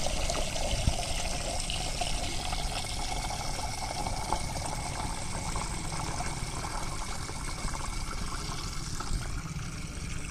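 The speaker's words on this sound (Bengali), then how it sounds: "এখান থেকে কল থেকে জল নিয়ে নিচ্ছি, পুরো কৌটোটা ফেলে দেবো একদম।" Tap water running into a container for watering plants, a steady close rush and trickle that continues evenly without pause.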